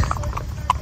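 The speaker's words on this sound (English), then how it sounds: "now we're walking the horses down the highway" Horses walking along a highway shoulder, their hooves giving a steady, close clip-clop rhythm of several distinct strikes over low traffic rumble.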